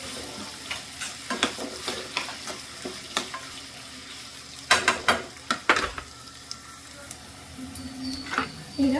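Green chillies and onion fry in a pan for okra palya, a continuous sizzle broken by frequent sharp scrapes and knocks of a spoon stirring against the pan, near and moderately loud.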